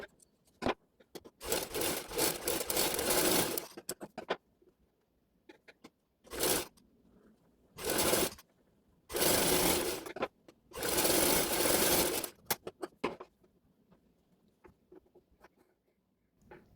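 A sewing machine stitches the front part of a blouse in several short bursts of rapid, close chattering, with quiet gaps and small handling clicks between runs.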